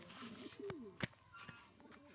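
Soft pigeon coos drift from a small backyard mini loft, low, quiet and slightly distant, with faint background rustle and a brief knock partway through.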